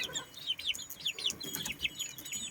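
Chicks cluck and peep softly in a quick, uneven series of short high calls, faint and close, with no talking.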